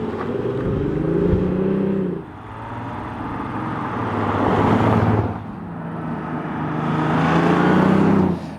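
Audi S4 facelift engine pulling hard as the car drives and accelerates, a loud, close cabin drone rising through the revs in surges with brief dips between gear changes, no talking over it.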